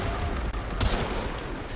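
Rapid bursts of gunfire from the Warframe video game fire in a dense, continuous volley with one sharper crack near the middle, loud and close.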